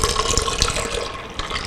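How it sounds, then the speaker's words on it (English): Juice of two lemons poured from a container into a pot of hot milk, a brief close splashing trickle of liquid lasting under two seconds. "Then I have the juice of 2 lemons I'm going to put in here."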